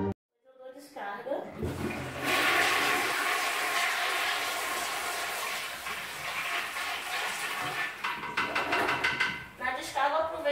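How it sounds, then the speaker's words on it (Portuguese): A household toilet flushes with a loud rushing surge of water that gradually tapers into refilling gurgles, heard close up. "eu dou descarga"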